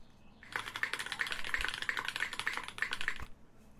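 Rapid, steady typing on a newly built DC60 mechanical keyboard, a dense run of crisp key clicks lasting about three seconds, close and clear with no talking.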